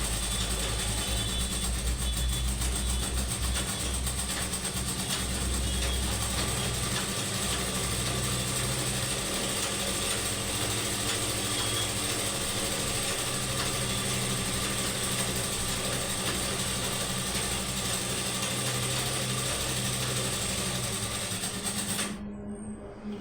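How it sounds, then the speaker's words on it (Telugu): Sewing machine stitching the seam of Punjabi dress pants, a steady rapid mechanical whir running continuously for over twenty seconds before stopping abruptly. "దాని మీద మిషన్ పాదం పెట్టి కుట్టేయండి."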